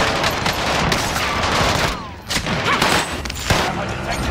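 Video game gunfire in a multiplayer shooter match: dense, loud, continuous bursts of shots with a brief lull midway, heard alongside players' voices.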